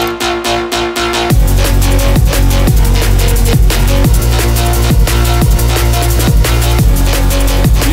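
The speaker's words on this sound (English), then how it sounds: "I just came back to this drum and bass project" An unfinished drum and bass track plays back loud: a sparse, choppy intro gives way after about a second to a heavy, driving beat with punchy kicks, snares and thick sub-bass that runs continuously to the end.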